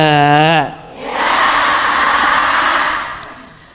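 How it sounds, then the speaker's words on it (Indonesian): Audience applause at a parenting talk rises just after a short spoken phrase, a dense clatter of many hands that holds for about two seconds and then tapers off. "Tepuk tangan buat Bunda yang sudah bertanya."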